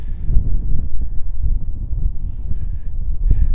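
Gusty wind roars across open moorland over 400 feet above sea level, thudding against the microphone in loud uneven bursts that rise and ease, with no one speaking.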